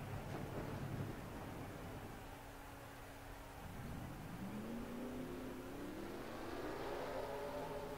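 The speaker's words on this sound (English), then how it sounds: "Drivers, start your engines!" Several NASCAR stock car engines in a racing video game rev and drone together at Phoenix, one climbing in pitch as it accelerates, at a steady moderate level.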